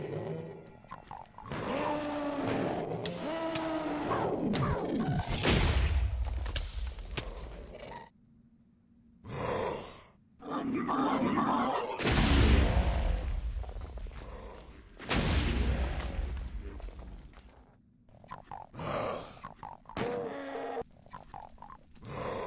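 Doom mod monsters in Minecraft loose firebolts in repeated loud, low booming bursts with grunting growls, separated by short gaps of quiet.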